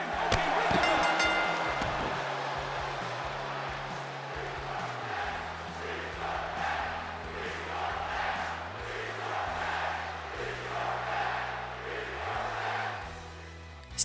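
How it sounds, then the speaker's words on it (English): Arena crowd in WWE 2K22 chanting after a match ends in a countout, a rhythmic chorus of many voices rising and falling over a steady crowd roar and a stepping low drone. "Should the match end in a countout, then this will cause the crowd to start chanting "Restart the match.""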